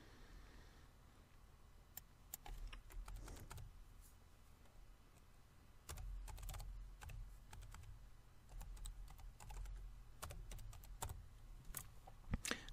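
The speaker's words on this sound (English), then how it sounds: "I can simply type in IM" Quiet typing on a computer keyboard while working in PaintShop Pro, steady soft key clicks in small flurries with brief pauses, close by and without speech.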